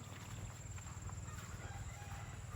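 Chickens cluck and call faintly through steady broadband background noise, with no one talking.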